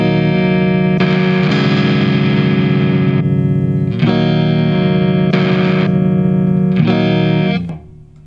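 Electric guitar played through a BOSS DS-1 distortion pedal, a run of sustained, heavily distorted notes and chords, loud and close with no talk.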